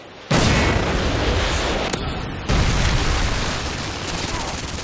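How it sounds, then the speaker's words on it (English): A Predator missile explosion in Call of Duty, a sudden loud close boom followed by a long roaring rumble, then a second blast that rolls out and slowly fades. "Predator missile inbound."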